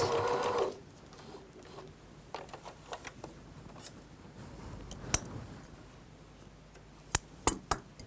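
A sewing machine runs in a short, loud burst at the very start while stitching a facing onto a dress, including a reverse stitch. It then stops, leaving a quiet stretch broken by a few sharp clicks and taps.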